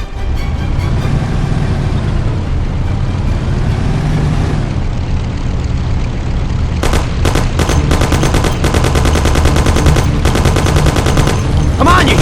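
Thompson submachine gun fire in the Mafia: The City of Lost Heaven video game starts as rapid, loud bursts partway through, layered over a constant roar of car engine and road noise.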